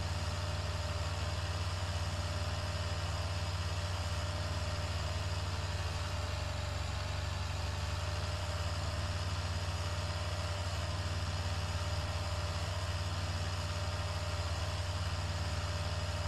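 Tractor engine idling in the Farming Simulator 2013 video game, a steady low mechanical hum with constant tonal drone that holds evenly throughout, with no talk.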